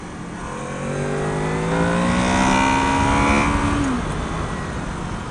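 A 2015 Honda VFR 800F motorcycle engine pulling in third gear, droning steadily as the pitch climbs smoothly with rising revs, then easing back off near the end, loud and close with strong wind rush and no talking.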